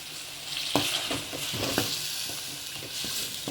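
Curry leaves and spice powder frying in a pan of oil for a home-style fish curry: a loud, continuous sizzle with a few stirring scrapes and clicks throughout, close up, no voices.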